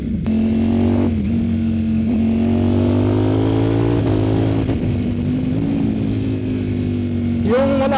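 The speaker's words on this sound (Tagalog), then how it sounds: "Narinig mo pagka nag-upshift ako, pumuputok siya men." A Ducati Streetfighter motorcycle with an Akrapovic exhaust drones steadily while being ridden, the engine pitch climbing and dropping through gear changes, with a few sharp pops on the upshifts, loud and close throughout.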